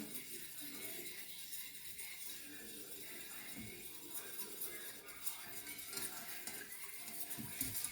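Ingredients being mixed with a utensil in a kitchen, a steady scraping and clinking of cutlery against a bowl that continues throughout, with soft kitchen clatter and no talk.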